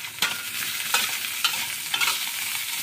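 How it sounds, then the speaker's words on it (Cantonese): Shallots and garlic sizzle and crackle in a pan as they are stir-fried, with a few sharp spatula scrapes recurring every half second or so over a steady frying hiss, no voices. "咁咧爆完紅葱頭咧，我哋咧就落埋啲蒜頭落去"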